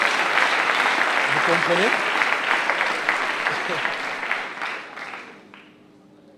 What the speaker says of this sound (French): Maintenant, vous pourrez applaudir